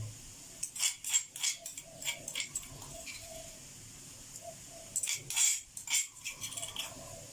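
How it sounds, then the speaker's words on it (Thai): Chili and garlic pounded in a mortar, with a series of fairly quiet, irregular thuds and clinks in two clusters separated by a short pause. "พอหอมแล้วผมก็จะโขลกพริกกระเทียม"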